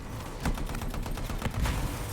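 Rapid gunfire in the shooter game Anthem sounds as a dense, continuous fusillade of overlapping shots across two seconds, moderately loud and steady with no voices.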